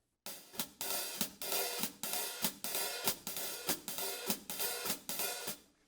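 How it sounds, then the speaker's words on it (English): Drumset hi-hat played in a steady swing rhythm, closed on beats 2 and 4 and opened on the other beats, giving a close, bright pattern of sizzling open strokes broken by short crisp chicks, with no other sound. "We want it closed only on beat 2 and 4, and then open on the off beat and on 1 and 3."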